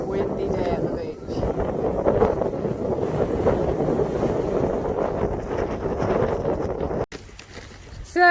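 Strong wind buffets the microphone on a beach, a loud continuous roar with gusts that stays heavy for about seven seconds before briefly dropping, then surging again; a person talks faintly underneath.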